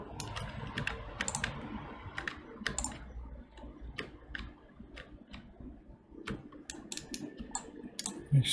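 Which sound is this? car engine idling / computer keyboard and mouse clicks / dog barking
computer keyboard and mouse clicks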